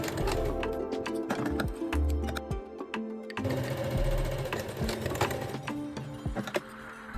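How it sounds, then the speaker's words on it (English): A sewing machine stitches folds on the front of a fabric kimono jacket, rapid mechanical needle chatter in bursts with a short pause midway, close and clear with no talk. "Stitch the folds on the sewing machine."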